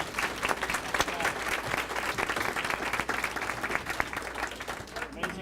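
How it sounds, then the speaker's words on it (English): Audience applause for International School musicians at a city volunteer appreciation celebration, a sustained crowd of clapping hands, full and even with some cheering voices mixed in. "so let's give them another round of applause"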